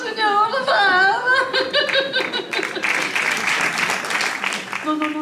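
A theatre audience applauds and laughs, scattered clapping and chuckles building under a man's singing and then his speaking voice.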